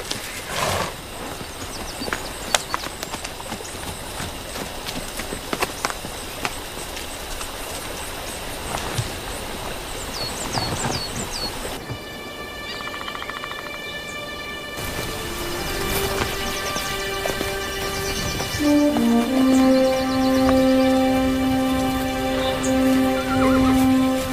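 A horse whinnies amid busy rustling and clattering, followed by a loud sustained mechanical hum and tonal droning that builds toward the end.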